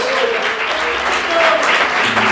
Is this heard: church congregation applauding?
yes